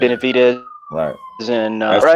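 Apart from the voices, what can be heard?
ambulance siren passing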